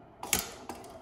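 A home sewing machine runs a few stitches forward then reverses to back tack a straight seam, giving two brief, close mechanical clattering bursts in a quiet room.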